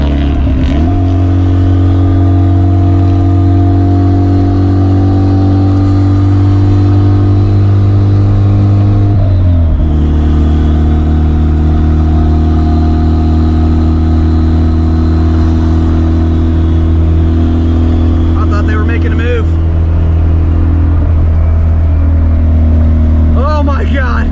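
A turbocharged car fitted with a REV9 billet-wheel turbo drives along the road, its engine droning steadily and loud, pausing briefly before resuming with gentle rises in revs, recorded close from the cabin.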